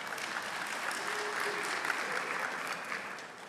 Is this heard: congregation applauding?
yes